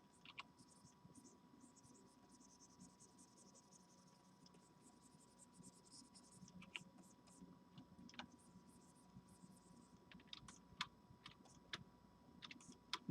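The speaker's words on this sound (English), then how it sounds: "that could be Alex's key clacking, or me hitting my hotkeys" Faint keyboard keys clacking at a desk, scattered light ticks and clicks at an irregular rhythm over a low steady background hum.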